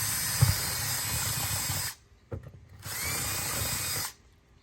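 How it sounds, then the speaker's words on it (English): A power drill with a 1/4 or 5/16 inch bit bores into a styrofoam facade in two loud, whining bursts close by, separated by a short pause with faint handling noise. "you're just going to go ahead and drill this in a 1/4 inch or a 5/16 drill bit"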